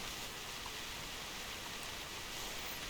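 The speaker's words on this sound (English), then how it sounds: "And it's raining again." Steady rain in the hunting game theHunter Classic, an even, dense hiss of falling water that holds constant throughout with no voices.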